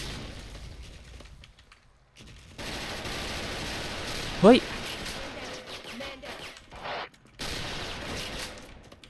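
Gunfire in the online shooter Special Force: a short, loud burst of rapid shots rings out mid-clip over a steady din of game noise, with someone talking.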